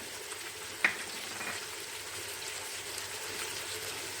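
Calf's feet frying gently in oil with cinnamon and other spices give a soft, steady sizzle, with one sharp clink of a utensil near the start and quieter stirring after it.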